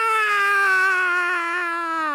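A human voice imitates a bald eagle's screech, one loud, sustained, strained wail with a steady pitch that slowly sinks, held for about two seconds close to the microphone.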